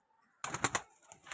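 A Parwazi pigeon coos at close range, a short burst of soft throaty coos after a moment of near silence, with no voices.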